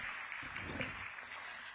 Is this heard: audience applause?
yes